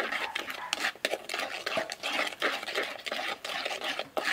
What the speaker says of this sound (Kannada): ಒಟ್ಟಿಗೆ ಮಿಕ್ಸ್ ಮಾಡುವ.